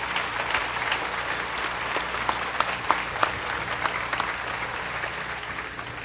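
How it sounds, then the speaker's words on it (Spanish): A church congregation applauds the choir during a Catholic consecration Mass in Campeche, a steady, dense wash of clapping hands that fills the room evenly for the whole stretch without letting up. "vamos a dar un aplauso a los que acabo de mencionar y al coro en especial"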